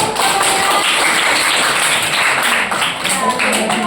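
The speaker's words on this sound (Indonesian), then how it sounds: "tepuk tangan dulu" An indoor audience claps for a few seconds during an Indonesian talk-show discussion, a dense, steady patter of many hands close by.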